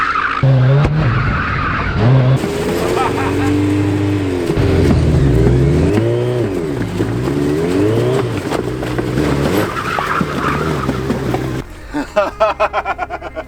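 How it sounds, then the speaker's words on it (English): A Smart car fitted with a Hayabusa motorcycle engine does a burnout, its high-revving engine wailing and shifting pitch over continuous loud tire squeal, before cutting out abruptly into crackling and rattling noises. "I wanted to conclude with a burnout, but I think we were a bit optimistic on the tires life."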